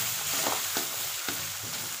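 Onions, green chillies, garlic and tomatoes fry together for paneer tak-a-tak, a dense close sizzle with a few quick scraping stirs of a spoon, and no voices.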